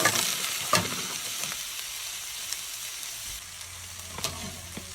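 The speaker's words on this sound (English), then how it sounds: "Now you're ready to put the lobster pieces into the wok" Lobster pieces frying in a wok for a Cantonese dish, giving a soft, steady sizzle with a few light clatters as they are moved about, fairly quiet and with no talk.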